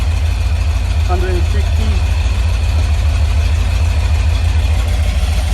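A carbureted 4.0 Rover V8 runs on an engine stand, giving a loud, steady low drone that never lets up, with a brief voice heard over it.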